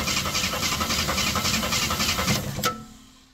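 A 1972 AMC Gremlin engine cranking without firing through a Ford starter solenoid, a steady rhythmic churning for over two seconds that stops abruptly with a click, then fades to quiet.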